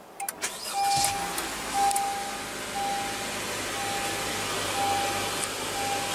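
2015 Honda Accord with a 2.4-liter four-cylinder engine settling into a steady, quiet idle just after a push-button start, with a soft low hum and a faint whine in the background.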